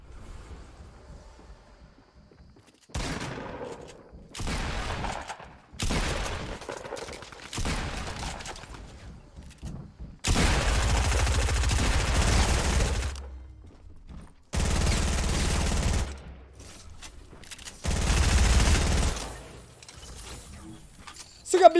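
Sustained bursts of P90 submachine gun fire in Fortnite, several long loud rattling volleys separated by short pauses, close and heavy, with a player talking now and then between them.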